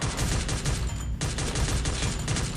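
Dense automatic gunfire from the Free Fire battle royale game, a loud continuous fusillade of rapid shots filling the whole stretch with only a brief dip in the middle, no speech.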